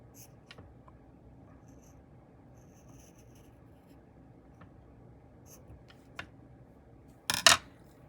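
A pair of sharp snips near the end as small craft clips are cut off the ends, following a long stretch of quiet room hush with a few faint clicks.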